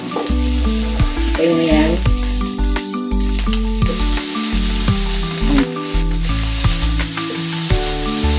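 Vegetables drop into hot oil and fry with a loud, steady hiss and sizzle, joined by clinks of a utensil stirring in the pan, while a person speaks briefly over the cooking.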